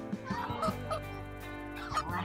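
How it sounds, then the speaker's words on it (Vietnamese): A chicken, just caught by hand, clucks and squawks in short, close bursts over a low steady background hum. "Bà bá đã bắt được con gà rồi."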